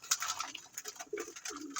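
Racing pigeons in a fancier's loft give soft, low coos in short repeated bursts, faint and close, with no one speaking.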